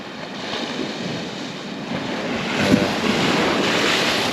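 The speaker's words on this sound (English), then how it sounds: "The sea's trying to get me wet there." Sea waves break on a reef at Blue Anchor Bay beach on the Bristol Channel, a continuous loud wash of surf swelling slightly near the end, with wind buffeting the microphone and no voices.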